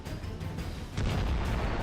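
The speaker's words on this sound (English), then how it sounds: "The AFU throws a grenade into the basement." A grenade thrown into a basement during a building assault detonates partway through, a sudden loud dull blast that swells into sustained low rumbling under ongoing battlefield noise.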